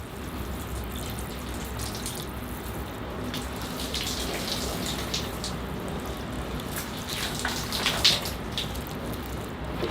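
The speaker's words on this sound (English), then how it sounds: "Flush all that soap out of the soil." Water pours steadily through bonsai soil in a pot holding a Ficus religiosa, flushing soap out, a continuous close rushing and splashing with a few brighter drips near the end.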